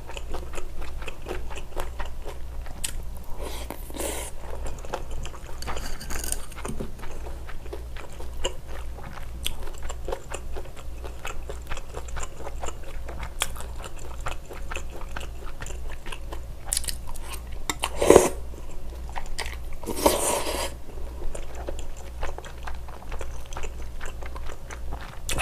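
Close, wet chewing and crunchy biting of stir-fried scallops and other seafood, a steady run of mastication with occasional louder crunches and clicks.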